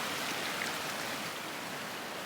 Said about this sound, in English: Down here, a nice little brook.